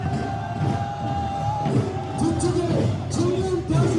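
A large outdoor crowd at the Jeju 4.3 peace march claps and cheers continuously, with shouts and whoops rising over a dense, steady roar close around.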